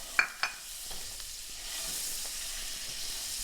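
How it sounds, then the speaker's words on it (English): Butter melts over medium heat in a pan for sautéing onions for homemade pierogi, a faint steady hiss of sizzling after two sharp utensil clicks at the start, with no talk. "melting the butter"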